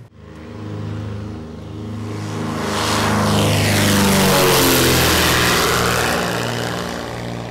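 Small propeller airplane flying over the West Philippine Sea near Palawan, a loud steady engine drone that swells as it passes close and then slowly fades, heard alone without talk.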